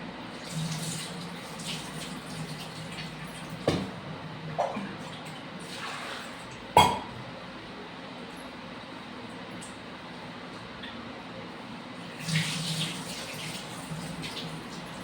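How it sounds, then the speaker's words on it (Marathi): Steady running water while rice is rinsed in a pot for Marathi home cooking, a continuous wash with a few louder splashes and clatters. "तर छान असा तांदूळ धुवून घालते आहे."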